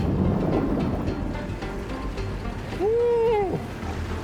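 A safari vehicle splashes through a shallow river crossing, with a steady rush of water and engine rumble, wind buffeting the microphone, and a short whooping voice near the end.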